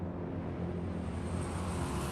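A video game airplane drones overhead in a Champion's Arena match, a steady broadband engine roar holding constant and swelling slightly toward the end, with no talk.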